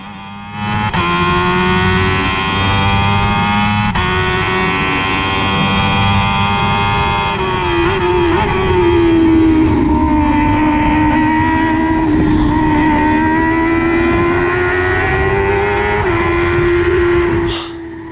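A race car in a racing video game, front end broken and scraping the ground, drones steadily and loudly throughout, its engine pitch wavering and dipping midway before the sound cuts off near the end.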